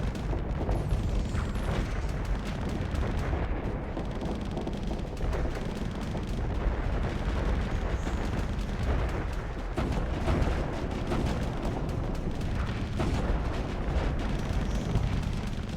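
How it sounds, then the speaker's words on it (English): Long-range artillery fire in the space combat game Starsector, a dense, continuous barrage of booming impacts and blasts rolling on without pause, loud and close throughout. "Kind of like it for the long range artillery."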